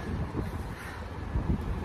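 Steady low rumble of wind buffeting the microphone outdoors in Chicago, with gusts swelling and easing throughout and no voices.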